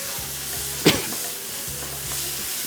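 Masala with red chili and turmeric frying in a pan for anda qeema, a low continuous sizzle with a single sharp scrape of a spoon midway, no voices.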